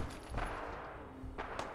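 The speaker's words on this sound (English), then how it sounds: "And now I hear gunfire in the distance." Distant gunfire in Fallout 4, a few muffled shots and short bursts rising out of a low, steady wasteland ambience, faint and far off with no talk.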